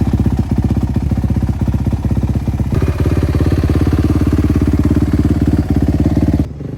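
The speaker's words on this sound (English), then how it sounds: "This is also my first time on a motocross track using a 450cc dirt bike." A 2020 Suzuki RMZ450 450cc dirt bike engine on a motocross track runs loud and close throughout, with a steady rapid firing pulse, a brief surge in pitch near the middle, and a sudden drop at the very end.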